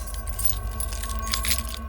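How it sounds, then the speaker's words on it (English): A ring of keys jingles steadily in a bright, metallic shimmer over a low mechanical hum, evoking the cell block of Kingston Penitentiary, a former prison, with no voices present. "you hear what you imagine to be the jingling of keys"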